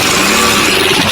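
Small engine on a repaired carburetor sputtering into life, a loud continuous buzzing run heard up close and alone for about a second.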